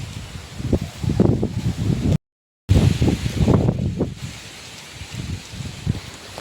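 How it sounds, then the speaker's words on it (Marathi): Strong wind sweeps through trees around a Konkan courtyard in Sindhudurg, a steady loud rustle and roar with gusty surges and low buffeting, continuing without a break and with no voices. "आज वारा खूप जोरात आहे"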